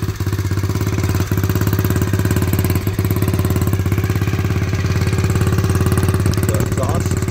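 A small SYX Moto 58cc pro mini kids dirt bike engine runs steadily after a pull start, a loud, rapid, even put-put close by throughout, with a few brief rough dips.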